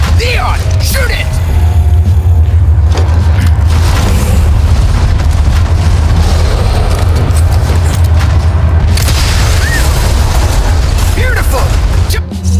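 Gunfire and explosions from the Resident Evil 4 Remake video game: loud, dense booming combat with heavy low rumble and scattered sharp bursts, continuous throughout.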